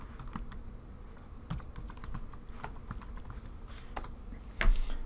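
Computer keyboard typing a configuration name in SOLIDWORKS CAD software: a run of quick, close keystrokes with irregular rhythm and a few louder clacks near the end, no talking.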